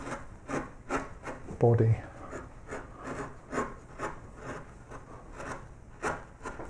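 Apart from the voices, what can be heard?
hand carving wood with quarter-inch carving tools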